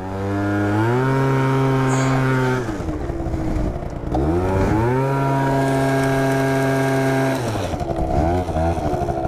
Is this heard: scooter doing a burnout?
yes